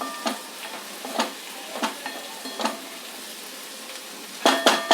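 Ingredients sauté in a pan for an Amavasai thaligai dish, a faint steady sizzle punctuated by regular spoon-against-pan stirring knocks, then a quick cluster of clatters at the end.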